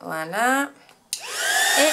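Someone speaks briefly, then a heat gun used for hot embossing switches on and blows a steady, close whooshing roar whose whine rises in pitch as it spins up.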